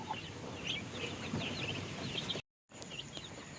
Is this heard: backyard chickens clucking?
yes